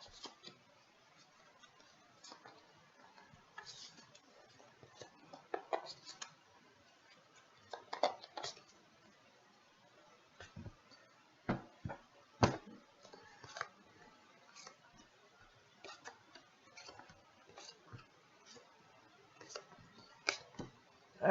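Tarot cards being shuffled and cut by hand on a table, a faint, sparse run of soft ticks, flicks and light slaps spread irregularly, with a few sharper taps standing out near the middle.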